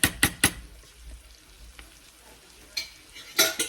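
Loose ground meat sizzling in a pan for loose meat sandwiches, with a few sharp scraping stirs at the start and again near the end, a steady quiet frying hiss in between.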